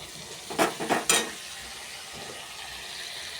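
Mustard paste hitting hot oil in a pan with tomato, salt and turmeric, giving a few sharp sizzling bursts close by in the first second, then a steady low frying hiss.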